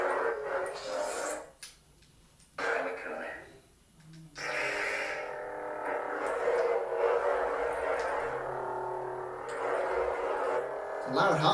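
A Sith lightsaber hums loudly with a steady electric drone, broken by brief gaps and bursts of sweeping buzz as it powers and moves, heard up close.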